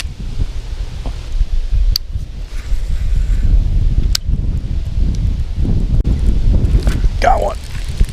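Gusty wind buffets the microphone beside a bass pond, a steady low rumble with rustling trees and a few brief knocks.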